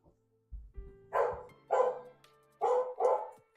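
A dog indoors barks four times in loud, close, separate bursts, the last two coming quickly one after the other, while a faint background tone hums beneath.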